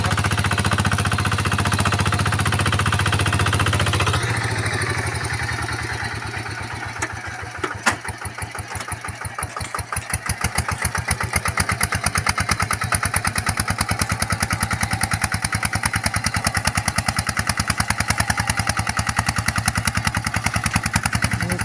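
A Kubota KRT140 4x4 small tractor plowing deep runs loud and close, a steady mid-pitched engine drone that dips briefly, then settles into a rapid, even chugging idle-like rhythm without any speech.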